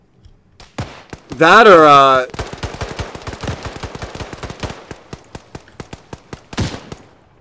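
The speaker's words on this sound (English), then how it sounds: "that's actual enemy fire, I think" Sharp gunshots from enemy fire in the Arma 3 military shooter crack in a rapid, uneven volley with one louder burst near the end, mixed with a brief shout and surrounding talk.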